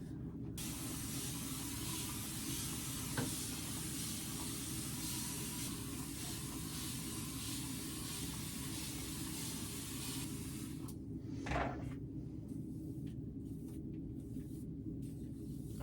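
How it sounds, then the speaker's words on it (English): A spray bottle mists water over hair in a continuous close hiss lasting about eleven seconds, then stops abruptly, leaving a few short bursts and quieter handling. "spray all over my head until it's as like wet as it can be"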